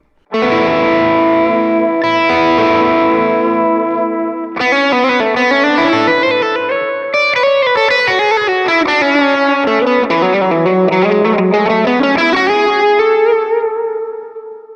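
Distorted electric guitar chords ring out, then a gritty melodic line bends and slides, thick with effects and sustain, loud and close.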